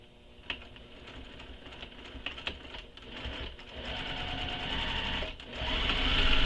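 Sewing machine stitching over a seam again on a handmade backpack, a fast steady mechanical whir with quick clicking needle strokes, close and continuous, getting louder toward the end.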